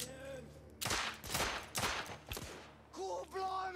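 Gunfire in the video game The Order 1886: several loud, close bursts of rapid shots in quick succession, separated by short pauses, with game sounds in between.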